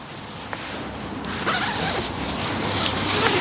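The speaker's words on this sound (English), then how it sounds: "Now someone's told me that they've changed the zips on these, so it's like a J style zip instead of a T." A zip opening on a Naturehike Cloud Peak 2 tent gives a close, continuous ratcheting rasp that runs for several seconds in a few pulls, heard alone without talking.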